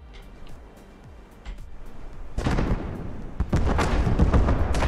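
Cluster bombs from a stealth cluster bomb system raining down and detonating in the naval combat game From the Depths, a quiet rumbling build-up giving way to a loud, dense barrage of overlapping blasts.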